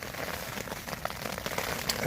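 Light rain patters steadily on the outside of a one-person Magellan Arrowhead tent, a soft, even, close drumming of drops with no voices.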